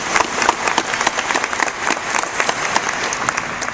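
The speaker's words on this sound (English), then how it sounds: "I would like to share another round of applause with all of you for being here as the newest admitted University of Maryland students" A crowd of newly admitted University of Maryland students and guests claps in a hall, loud and close, with many distinct sharp hand claps standing out in an irregular, lively patter.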